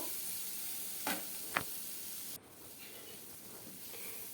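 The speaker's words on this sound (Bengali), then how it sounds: "এবার সব একসাথে দিয়ে খুব ভালো করে নাড়াচাড়া করব" Bitter gourd with fish roe stirred in a frying pan, a soft steady sizzle with two quick clinks of the spatula, then the hiss drops quieter partway through.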